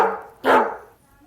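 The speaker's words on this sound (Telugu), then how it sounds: "డాగ్ టేమ్ అయింది గైస్." A single short, loud dog bark from the Minecraft video game, standing alone and close with no talk around it.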